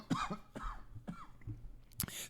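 Several dry coughs in a row, close and fairly quiet, spaced unevenly, ending with a sharper, louder cough.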